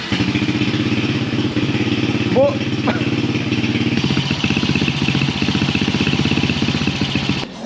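A motorcycle engine starts and runs at a steady, throbbing idle close by in Laos, its rhythm shifting to a choppier pulse partway through; a voice speaks briefly.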